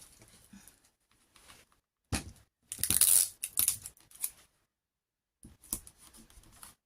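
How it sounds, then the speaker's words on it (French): Quiet room with a few short bursts of adhesive tape being pulled and torn off the roll, crisp and close. "je vais mettre un petit bout de scotch"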